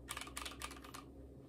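Quick bursts of typing on a GK61x mechanical keyboard fitted with lubed Tealios v2 switches, Durock stabilizers and GMK keycaps, a short close run of crisp clacky keystrokes ending in quiet.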